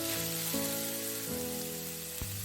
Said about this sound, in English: And then you add the grated amla into the oil.